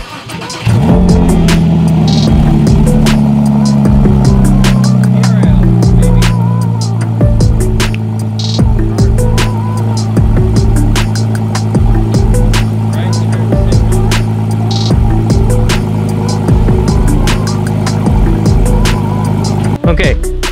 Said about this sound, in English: We're gonna turn the car on and see if it works.